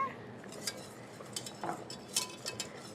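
Sugar being stirred into melted butter in a bowl for cornbread, with a utensil giving a few faint, scattered clinks and light scrapes against quiet background.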